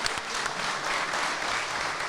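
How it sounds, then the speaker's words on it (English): Steady, dense applause from a live studio audience of about 125 people at a car show taping, loud and continuous throughout with no break. "Give yourself a round of applause."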